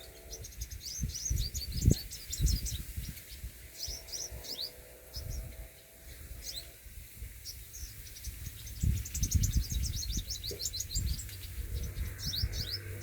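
A single sparrow chirps and calls repeatedly in quick bursts, loud and close, over a low background rumble with scattered handling noises.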